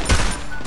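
A brief, loud burst of rapid gunfire in a mobile shooter video game, a short fusillade of close shots lasting under a second.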